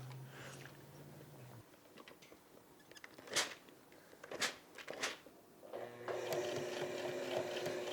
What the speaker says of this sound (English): Last stitch to close up this waistband